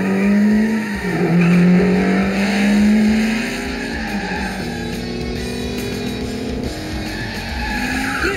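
Race cars tear past in a film scene, loud close engines revving with whining pitch sweeps that rise and fall, tires screeching and skidding as the roar holds steady throughout.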